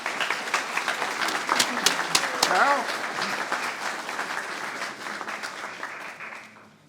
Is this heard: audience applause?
yes